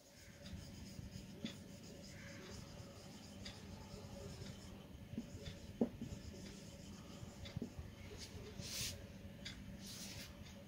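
Numbers written by hand on paper, a faint, soft scratching of pen or pencil with small taps and pauses, heard close up in a quiet room.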